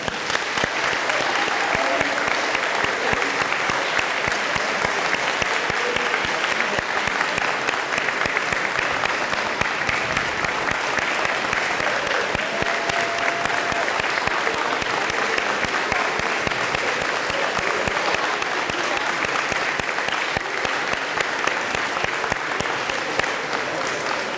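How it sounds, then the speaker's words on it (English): Sustained audience applause for students at a school awards ceremony at Mill River, steady dense clapping from a crowd filling the room, continuing evenly without pause. "So please give one more round of applause to these students for all their hard work."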